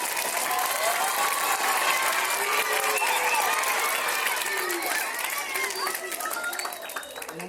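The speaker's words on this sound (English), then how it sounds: "Let's give the essay winners one more round of applause." A school auditorium audience at a fifth grade DARE graduation applauds the essay winners, steady dense clapping with cheering and chatter mixed in, fading slightly toward the end.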